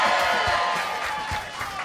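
A large outdoor crowd at the Minnesota State Fair cheers and whoops in a broad, sustained roar that swells and fades slightly.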